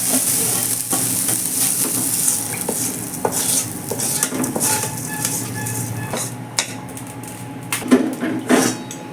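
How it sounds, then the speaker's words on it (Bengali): Fried rice and lentils tipped into a pot of water for khichuri and stirred, with sizzling, scraping of a spoon against the pot and irregular metallic clinks, close up. "এবার আমি চাল ডালটাকে হাঁড়ির মধ্যে ছেড়ে দিচ্ছি।"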